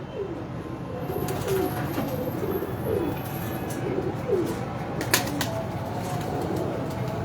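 Breeder pigeons cooing repeatedly at close range, a series of rolling low coos spread across the clip over steady ambient hum, with a few sharp clicks and flutters.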